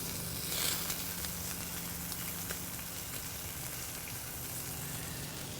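Thinly sliced onions frying in oil on a griddle beside bacon, giving a steady, dense sizzle and crackle that runs evenly throughout with no one talking.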